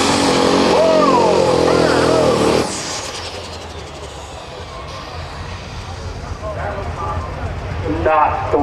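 An 8,000-pound diesel super stock pulling truck roars loudly at a tractor pull, its engine note cutting off after a few seconds and leaving crowd murmur and a commentator's voice over the arena.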